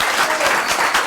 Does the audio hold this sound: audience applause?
yes